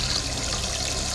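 Tap water steadily filling a goldfish tank, a continuous close rushing pour without pauses.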